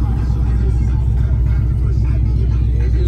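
A 2010 Ford Mustang Shelby idles steadily after starting, its deep, pulsing engine rumble close and loud throughout the short stretch, with a speaking voice faintly blended in.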